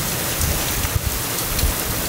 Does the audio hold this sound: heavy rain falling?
yes